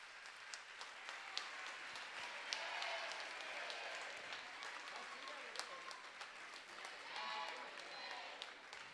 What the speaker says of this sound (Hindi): जोरदार जोरदार करतल ध्वनि के साथ में पूज्य महाराज श्री अपने गुरुवर के छाया चित्र को अनावृत कर रहे हैं।